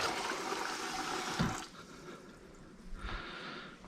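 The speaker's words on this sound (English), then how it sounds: "I like to just wet a towel" Tap water runs strongly in a kitchen to wet a towel, a loud steady gush that cuts off partway through, followed by a brief second splash.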